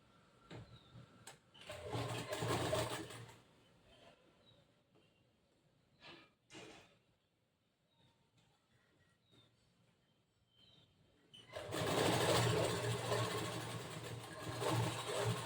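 A sewing machine stitches tucks into a boat neck blouse in two loud bursts of rapid mechanical whirring, one short run early on and a longer run near the end, with quiet handling clicks between them.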